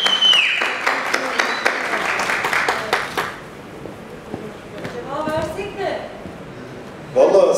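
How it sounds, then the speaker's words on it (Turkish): Audience applause at a film gala night: dense clapping from a crowd for a few seconds, fading away, with voices talking over and after it and a short burst of noise at the end. "büyük bir alkış."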